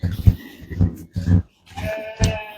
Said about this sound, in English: You can start to hear the ewes already.